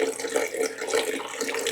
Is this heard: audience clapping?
no